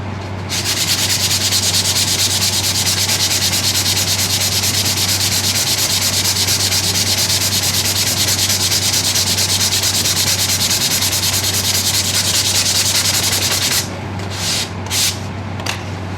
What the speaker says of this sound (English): Here's another little bit of sanding I'm going to do here.